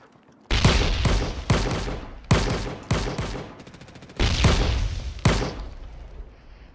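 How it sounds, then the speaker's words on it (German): Loud bursts of video game gunfire in rapid volleys, several sharp blasts with a short machine-gun rattle in the middle, separated by brief pauses. "habt ihr gerade Schüsse gehört?"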